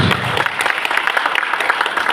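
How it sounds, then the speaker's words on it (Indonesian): Audience applause for Ustaz Habibah at a company director's speech, a short burst of dense, fairly loud clapping from a crowd. "Beri tepuk tangan untuk Ustaz Habibah"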